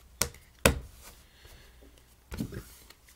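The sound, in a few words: cutting a deck of playing cards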